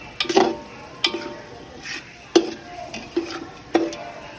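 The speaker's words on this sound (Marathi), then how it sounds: "चांगल्या पद्धतीने मिक्स करावे." Spices, coriander powder and garam masala, stirred in a frying pan with a few distinct scraping strokes spaced about a second apart over a faint sizzle.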